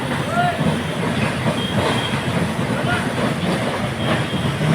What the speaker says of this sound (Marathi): आणि तिथे 2 ट्रेन आहेत बहुतेक, एक येताना जाताना दिसली आम्हाला